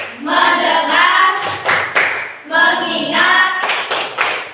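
Rhythmic hand clapping of a "tepuk fokus" clapping game led by a teacher, loud and close in short patterned bursts between voiced chanting, with a brief pause before the pattern repeats.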